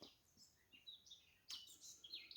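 Faint, high bird chirps and tweets scattered across a quiet outdoor background, several short calls at a distance.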